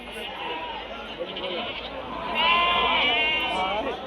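Young lamb or kid bleating at a livestock market, repeated wavering cries that swell louder toward the end amid the murmur of a crowd and nearby talk.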